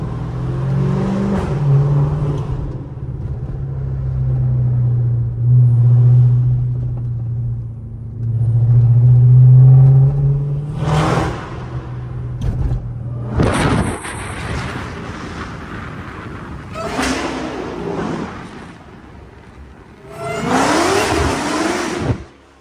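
Dodge Hellcat engine on a late-night drive, a deep rumbling idle and steady cruise that breaks into loud revving bursts and accelerations, with wind noise, close and alone.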